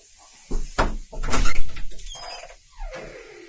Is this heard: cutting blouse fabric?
no